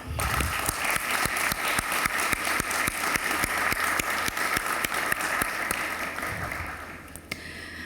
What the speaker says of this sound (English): have a clap for all of your support that you did and done for us